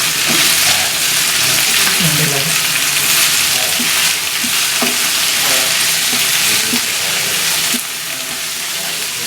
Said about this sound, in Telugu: మునగాకును బాగా కడిగిన తర్వాత ఇలాగా వేసుకోవాలి. మనం వేసుకొని ఒక్కసారి ఇలాగా బాగా కలపాలి.